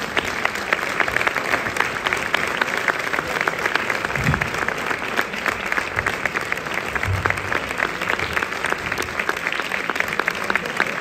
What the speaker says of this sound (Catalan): si us plau, i un aplaudiment